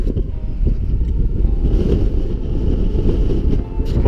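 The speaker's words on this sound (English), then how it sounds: "My god, is it still windy." Strong wind buffeting a microphone on Black Sail Pass in the Lake District, a loud, continuous low roar with gusty swells throughout, heard alone without speech.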